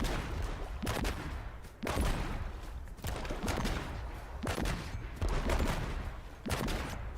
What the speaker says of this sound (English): Oh, the grenade launcher again.